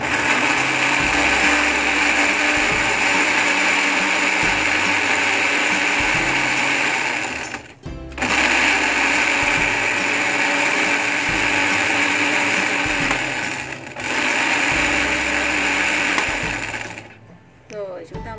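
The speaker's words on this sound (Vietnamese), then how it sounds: "Rồi chúng ta bật máy xay." An electric blender whirs loudly as it purees chopped pineapple with water, a steady high-pitched motor whine running about seven seconds, briefly cutting out, then resuming before stopping near the end.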